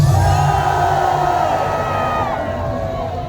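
Large outdoor political rally crowd at Gwanghwamun Square in Seoul on Liberation Day, roaring, shouting and cheering in a loud, sustained wash of voices that fades slightly toward the end.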